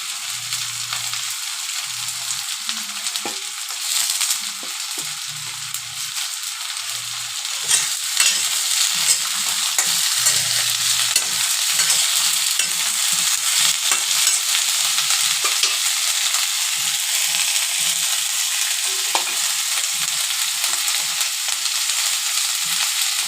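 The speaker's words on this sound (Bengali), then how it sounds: "একটু ভেজে নিয়ে ব্রোকলিগুলো দিয়ে দিলাম।" Broccoli frying in a pan, a loud continuous sizzle that grows stronger partway through, with intermittent low thuds and scrapes of stirring underneath and no speech.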